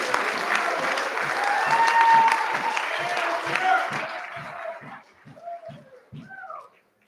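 An audience at a sports awards ceremony claps in a sustained round of applause that swells, then thins into scattered separate claps before fading out.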